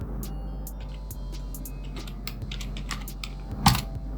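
Fingers tap a computer keyboard while writing Excel VBA macro code, a quiet, irregular run of light key clicks spaced through the clip with a slightly louder clack near the end.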